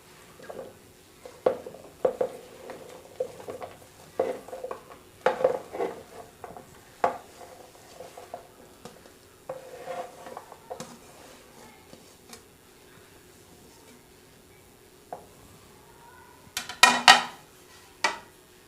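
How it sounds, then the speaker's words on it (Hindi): A spoon mixes fruit chaat in a bowl, giving soft irregular clinks and scrapes at close range, ending in a brief cluster of brighter metallic taps. "इसमें अब हम सारा फ्रूट मिक्स कर देंगे।"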